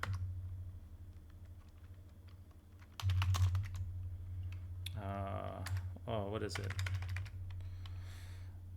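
Computer keyboard typing, soft rapid key clicks in short bursts close to the microphone, with a steady low hum underneath and a man's brief spoken remarks.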